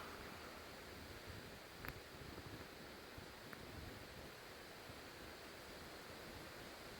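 Fresh water trickles and flows from a spring on rural property after a dry, hot summer, a faint, steady hiss of running water with no speech.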